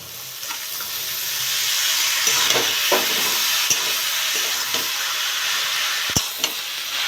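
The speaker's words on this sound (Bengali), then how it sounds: "এটা নেড়ে চেড়ে ভালো করে মিশিয়ে নিয়েছি" Banana flower stir-frying with cumin powder and salt sizzles loudly and steadily, with intermittent spatula scrapes and taps against the pan, no voices.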